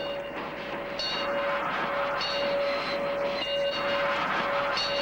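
A train rumbles steadily along with a sustained mechanical whine, the noise swelling slightly in periodic waves as it keeps moving.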